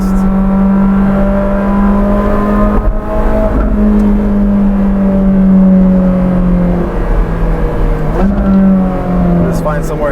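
A Ferrari 458 Speciale Aperta accelerates hard, its engine rising loud and close through the gears in long sweeping pulls, with brief dips at the shifts and wind rush underneath.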